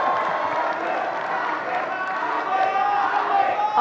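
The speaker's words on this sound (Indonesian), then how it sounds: "Sekarang boleh tepuk tangan" Crowd applause at the close of an Indonesian vice-presidential candidate debate, a continuous dense roar of clapping and cheering, with voices mixed in throughout.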